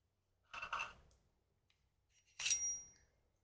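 A bell sound effect rings out twice, a short bright burst followed by a second ring with a clear, sustained metallic tone, both alone against near silence.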